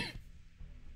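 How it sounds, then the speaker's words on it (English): A single short, rough cough from a man with a bad cough, close to the microphone, opening with a harsh burst and trailing into quiet breath. "Sorry, I've got a bad cough."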